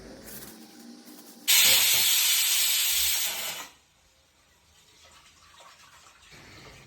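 A pressure cooker cooking dal lets out a loud, close burst of hissing steam lasting about two seconds, set against quieter kitchen background noise before and after.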